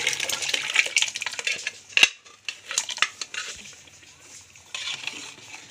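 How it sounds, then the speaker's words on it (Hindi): A spoon scrapes and clinks against a metal pot while boiled trotters and lentils are stirred together for a wheat bharda khichda, irregular close clatters and wet scraping with brief pauses. "इसको हम अच्छे से मिक्स कर लेंगे"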